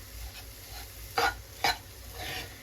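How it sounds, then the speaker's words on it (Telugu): Sweet potato halwa with jaggery stirred in a pan: two sharp scraping strokes stand out over a low, steady cooking hiss, with a softer scrape near the end. "ఇప్పుడు ఇలాగే కలుపుకుంటూ బెల్లం అంతా కరిగిపోయి దగ్గర పడేంత వరకు కుక్ చేసుకోండి"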